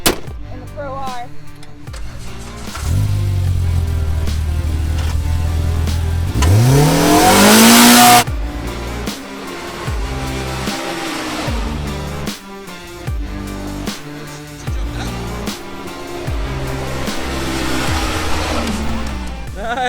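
Polaris RZR Pro R off-road side-by-side revving hard, engine pitch climbing sharply to a peak then cutting off, followed by repeated throttle blips and lower revs, loud and close with outdoor rumble.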